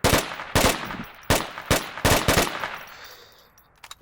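Short bursts of Volk rifle fire in a video game: about seven sharp, loud shots in quick clusters, each with a brief ringing tail, ending in a fading reverberation.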